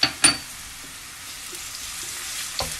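Garlic, ginger and green chilies drop into a frying pan and sizzle softly and steadily, with a few light clinks of a spoon at the start and end, and no talking.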